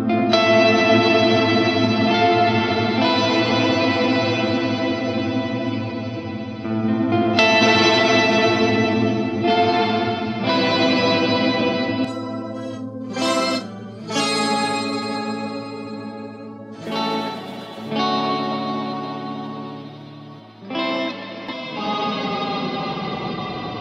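A Satan Verb reverb JSFX plugin running in Reaper, heavily processing sustained tonal chords into a dense, distorted, chorused wash with long reverberant tails and a few sharp bright bursts, loud and continuous with no talking.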